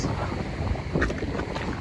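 Strong wind buffeting the microphone on a rocky shore at Black Point, Narragansett, with big waves crashing, a rough continuous roar over the brief stretch.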